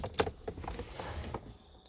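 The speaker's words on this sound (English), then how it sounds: "Reach over, turn the keys on." Keys jangle and click as they turn in the ignition of a Toyota Mark II JZX110 inside the car, a few sharp metallic taps followed by a quiet electronic hum.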